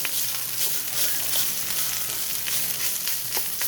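Rice coated in oil stir-fries in a pan for pork and egg fried rice, giving a steady, close, continuous sizzle with faint scraping stirs and no talking.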